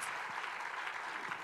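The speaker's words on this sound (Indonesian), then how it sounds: "Berikan tepuk tangan bagi Tuhan kita Yesus Kristus." A church congregation clapping during a worship service, a brief, steady wash of applause at moderate distance.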